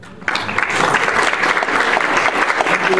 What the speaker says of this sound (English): Thank you, ladies and gentlemen, for the applause.